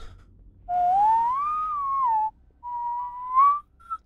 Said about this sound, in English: The trick is to be able to whistle while you're breathing in and breathing out, so it never ends.